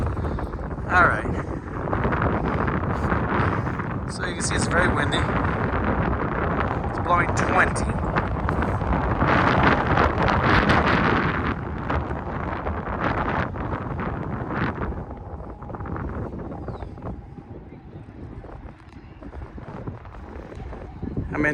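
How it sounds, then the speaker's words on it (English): Strong wind rushes and buffets around a boat anchored in 28 feet of water on an Alpine, Colorado lake, a loud, continuous roar that eases somewhat near the end, with talking mixed in. "So you can see it's very windy."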